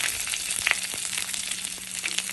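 Chopped garlic sautés in hot oil in a pan for a Kerala-style roasted-coconut chicken curry, giving a steady close sizzle with a few brief stirring clicks and no voices.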